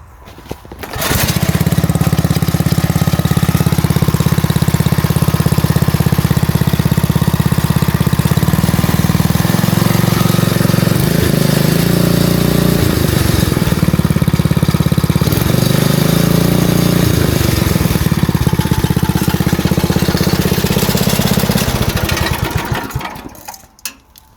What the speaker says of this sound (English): Now when I go to start it, it actually starts first pull